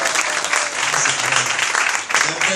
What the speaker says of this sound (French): Applaudissez. Applaudissez. Applaudissez.